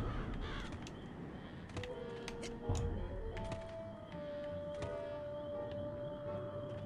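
Crows cawing in the game Psychonauts, a few harsh calls scattered over a dense, steady game soundscape with a sustained tone, moderately loud.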